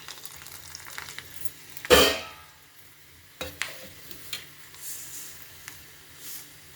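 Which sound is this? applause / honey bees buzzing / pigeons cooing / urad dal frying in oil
urad dal frying in oil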